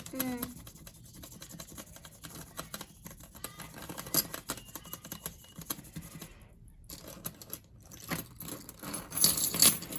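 A bunch of keys on a panda key ring jangling and clinking in near, continuous light metallic rattles that swell toward the end.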